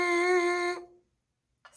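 Lips buzzing into a trumpet mouthpiece alone, a bright reedy tone held for under a second before cutting off, followed by silence and a faint start of another sound.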